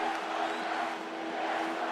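A large arena crowd at ancient Roman gladiator games roars with cheers and shouts. The sound is a dense, continuous wash of many voices, loud and steady for the short span.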